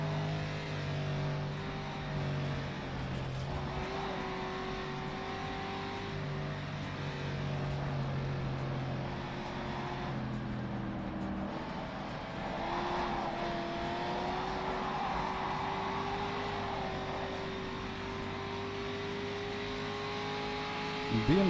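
A powerful Ferrari race car engine in a racing video game drones steadily with shifting pitch through upshifts and downshifts, continuous and moderately loud, with another engine faintly in the background.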